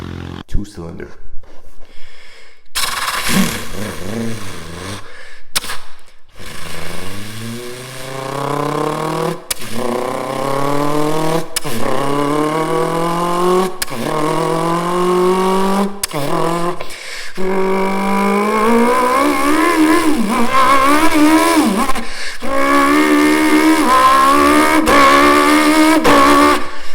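In a public bathroom, a voice mimics a three-cylinder motorcycle engine with long rising revs, buzzing harmonics and brief breaths between pulls, close and loud against echoing tiled walls.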